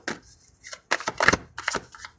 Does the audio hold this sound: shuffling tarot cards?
yes